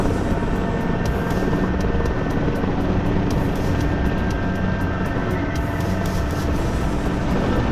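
A helicopter rotor and engine in a flight simulator, a loud, steady whirring drone with constant low rumble and rapid blade chop, unbroken throughout.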